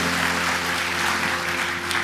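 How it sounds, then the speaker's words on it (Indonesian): A church congregation claps together in praise of Jesus during a worship service, a steady, dense wash of applause with a faint sustained tone beneath it and no talking. "Tepuk tangan buat Yesus Tuhan kita."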